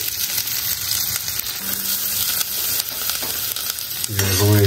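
Onions frying in a pan for a home-cooked Indian potato dish with green chillies, a steady loud broadband sizzle continuing throughout, with a brief stir near the end.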